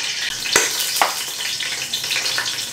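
Beef sautéing in a pan for caldereta, a loud, dense, continuous sizzle with a few sharper stirring scrapes and clinks, close up and with no talk.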